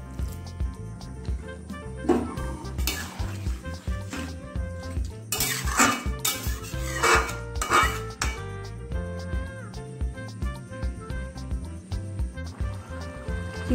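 Shrimp with yardlong beans and potato cooking in a pot with a little water, heard as repeated metal clinks and scrapes of a spoon against the pot over a soft background hum.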